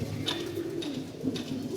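Pigeons coo softly in a steady low murmur, repeated pulses over continuous background noise.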